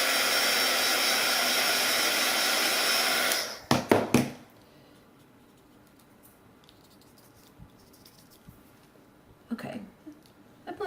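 A heat gun blasts on oil pastel to blend it for a flower tag, giving a loud steady roar for about three seconds. It cuts off, followed by a few clicks and handling noises in near quiet.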